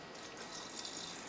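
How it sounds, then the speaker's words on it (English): Water poured into the top of a kitchen appliance while making Alfredo sauce, a short steady splashing trickle heard close and alone. "you can just lift off the top to pour in the water"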